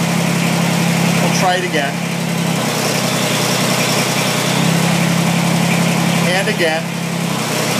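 A Kubota BX2370 compact tractor engine idles at low RPM while running its hydraulic loader pump, holding a steady drone with slight load dips and someone speaking briefly over it.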